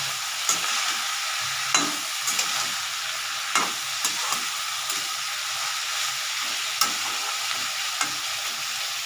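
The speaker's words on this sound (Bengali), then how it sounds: "তো ভালো একটু হালকা ভেজে নিই, তারপরে মাছগুলো।" Mixed vegetables lightly frying in a pan for a small-fish curry, with a steady soft sizzle and a few sharp clinks and scrapes of stirring, close and alone.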